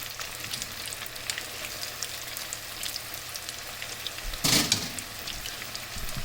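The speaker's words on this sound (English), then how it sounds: "let's get these back in that hot oil" Cauliflower florets deep frying in hot oil give off a steady, soft crackling sizzle, with a louder burst of bubbling spatter near the end as more pieces go into the oil.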